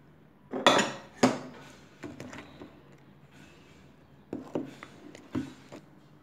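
A spoon stirs cake batter of egg, sugar, butter and milk in a bowl for a plum cake, giving a few sharp, close clinks and scrapes against the bowl with short quiet gaps between strokes.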